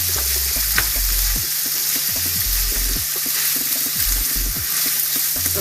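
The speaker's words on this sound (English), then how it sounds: "So brown up the meat a little bit." Meat browning in a pan with a steady close sizzle, broken by intermittent scraping and stirring strokes from a utensil, no talking.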